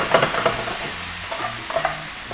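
Ingredients lightly browning in a pan with a steady soft sizzle, punctuated by a few clinks and scrapes of stirring, close and alone with no voices.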